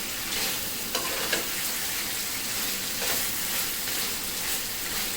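Mutton masala sizzles and fries steadily in a pan on a gas stove, with a few sharper scrapes and clinks of stirring breaking through the continuous hiss.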